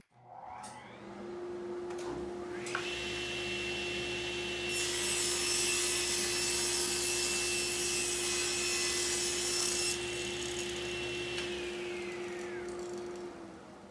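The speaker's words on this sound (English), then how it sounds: "The second cut will also be a rib cut" A SawStop table saw with an overarm dust collection guard rip-cuts wood: the blade whines up to a steady hum, a loud rasping cut follows for several seconds, then the motor winds down.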